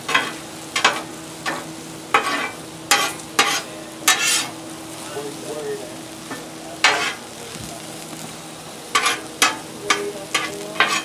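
Okra coated in raw flour sizzles steadily on a Blackstone griddle with little oil, broken by repeated sharp scraping and clattering as a spatula turns the pieces, the strokes coming in bursts.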